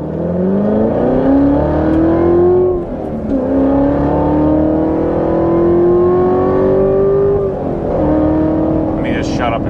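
A Carbon 65 Corvette Z06 drives along, its engine droning loud and close, rising steadily in pitch through each gear and dipping briefly at the shifts.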